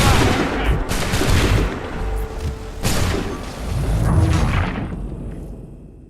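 Musket volleys crack out in an Assassin's Creed 3 battle, several dense bursts of gunfire rolling in waves with booming echoes, loud and close, fading toward the end.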